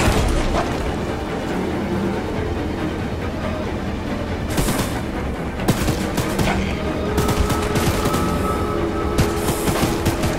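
Machine gun fire in the video game Choo-Choo Charles: dense rapid bursts of gunfire over a constant rumbling background, with sharper volleys in the second half, loud and close, no voices.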